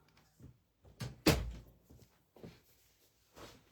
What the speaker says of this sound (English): hold on, I forgot to shut my door.